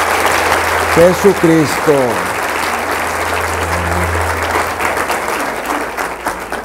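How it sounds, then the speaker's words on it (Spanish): A church congregation bursts into loud, sustained applause during a worship service, with a voice speaking and brief sung or held tones rising over the clapping. "Vamos a darle un aplauso al Rey de Reyes, Señor de Señores"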